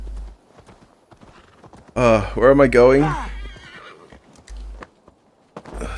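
A horse in Assassin's Creed Valhalla whinnies loudly with a rising, wavering neigh in the middle, while muffled hoof clip-clops thud before and after; a person briefly talks alongside.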